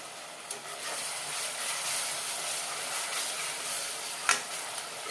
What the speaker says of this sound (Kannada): ಈರುಳ್ಳಿ ಕಲರ್ ಎಲ್ಲ ಕಂಪ್ಲೀಟಾಗಿ ಟ್ರಾನ್ಸ್ಪರೆಂಟ್ ಆಗಬೇಕು ಅಲ್ಲಿವರೆಗೂ ಫ್ರೈ ಮಾಡ್ಕೊಬೇಕು